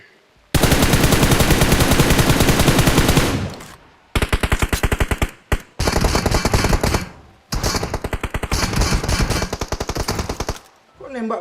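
Rapid automatic gunfire from the PUBG Mobile battle royale game, loud and close, in several long sustained bursts separated by short pauses.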